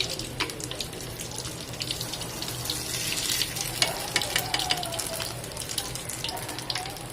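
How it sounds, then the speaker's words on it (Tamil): Urad dal vadas fry in boiling oil with a steady crackling sizzle and scattered sharp pops, moderately loud and continuous throughout, with no speech. "நல்லா எண்ணெயில் கொதிக்குது பாருங்க."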